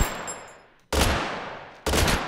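A Beretta pistol firing in the video game Totally Accurate Battle Simulator: three loud, sharp bursts spaced roughly a second apart, each fading away before the next, with no voices.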